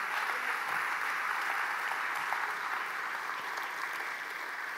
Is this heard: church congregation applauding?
yes